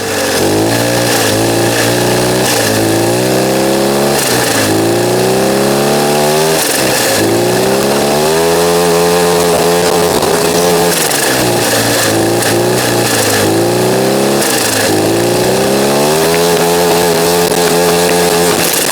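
A 150cc turbocharged go-kart engine revving hard and buzzing loudly nearby, its pitch sweeping up and down repeatedly as it accelerates, lifts off and passes through corners.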